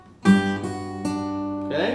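Strummed acoustic guitar chords ring out clearly, three separate strums letting each chord sustain before a final brighter strum near the end.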